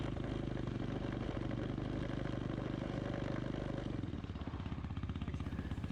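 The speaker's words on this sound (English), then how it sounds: "I was driving the entire ATV on the first gear only." An ATV engine runs steadily in first gear with a rough, clattering mid-range drone, loud throughout and easing briefly near the end.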